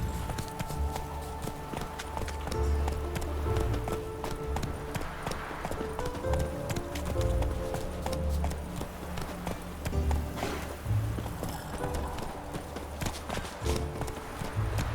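Horse galloping in The Witcher 3, steady rhythmic hoofbeats close and prominent over game ambience and music throughout.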